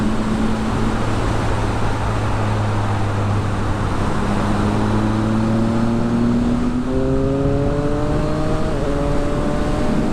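A Triumph Speed Triple RS motorcycle engine drones steadily while riding, loud and close, its pitch climbing smoothly as the revs rise toward the end.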